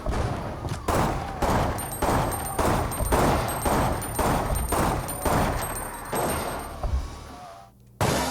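Rapid, steady gunfire from a weapon in the Resident Evil Outbreak video game, shots cracking one after another for several seconds with no pause for reloading, loud and close, ending in a brief quiet.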